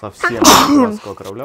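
A single loud, sharp sneeze bursts out at close range during a tabletop board game, with brief speech around it.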